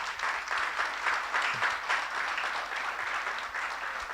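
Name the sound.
round of applause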